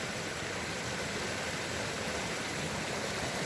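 A woodland creek flows steadily nearby, a constant broadband rush of water with no breaks and no voices.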